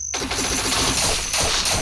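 Rapid automatic gunfire in the video game Free Fire, a fast burst of harsh, closely spaced shots that stops briefly and then resumes, loud and dense with no talking.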